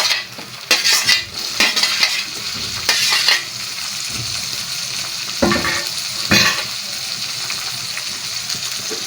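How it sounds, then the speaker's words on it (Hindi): Tomatoes being stirred into pumpkin and chana dal frying in a pan, with spoon scrapes and clinks against the pan over a steady sizzle, close and fairly loud with short pauses. "और इसको मिक्स करेंगे। और टमाटर डाल देंगे इसके ऊपर,"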